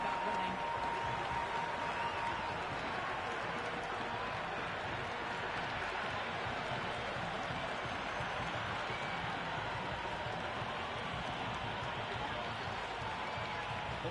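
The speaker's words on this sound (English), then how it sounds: "There's a buzz, a real buzz coming from the stands." A large cricket crowd in the stands at Eden Gardens, Kolkata, during an India versus West Indies T20 match, a dense continuous roar and buzz that stays loud throughout with commentary voices underneath.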